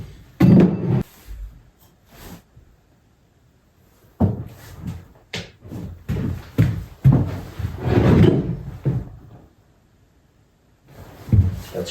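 A massive, heavy wooden door built from 2x4s is shifted around at an off-grid cabin, with bursts of knocks, thuds, creaks and scraping separated by quiet pauses.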